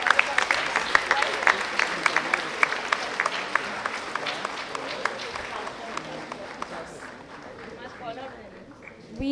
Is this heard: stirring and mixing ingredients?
no